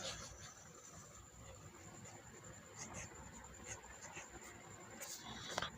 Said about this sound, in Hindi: अब हम लिखते हैं